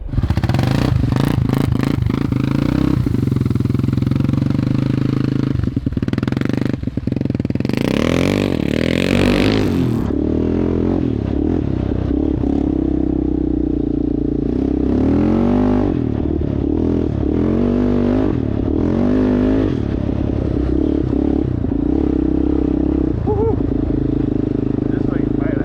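An abandoned Yamaha Warrior 350 four-wheeler ATV with a badly damaged tire, its engine loud and close, revving and rising and falling in pitch as it is ridden, with clatter and scraping over it and a voice now and then.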